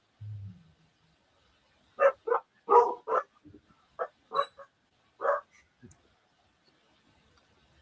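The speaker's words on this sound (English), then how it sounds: "That's the dog saying hi." A dog in a quiet indoor room barks in a series of about eight short, clear woofs spread over several seconds, some in quick pairs, fairly close, with no one talking over them.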